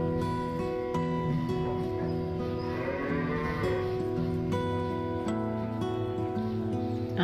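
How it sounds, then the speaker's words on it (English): Cattle moo nearby in long, low, drawn-out calls that overlap over several seconds, with a faint rustle in the background and no talking. "I have cows living near me. They make beautiful noises."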